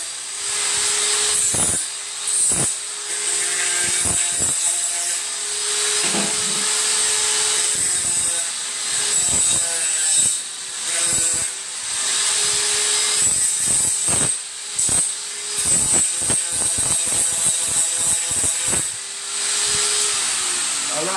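A power grinder takes the burrs off a freshly cut piece in repeated loud, close bursts of high whine, broken by short pauses and shifting in pitch as the tool bites and releases.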